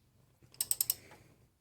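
A ratchet fitted with a 3/4 inch socket on the crank pulley of a 1997-or-later Jeep XJ with a 4.0L engine gives four quick, sharp metallic clicks in a row, close and fairly quiet.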